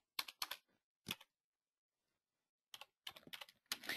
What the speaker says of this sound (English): So I'm simply going to type in my MLS numbers